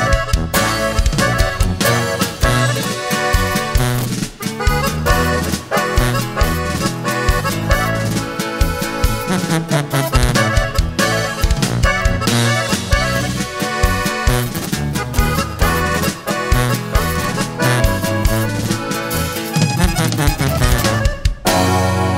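Norteño band performing a corrido live in concert, a dense, loud, steady mix of accordion, bajo sexto and tuba with continuous rhythmic drive for the full stretch, with no voice coming through.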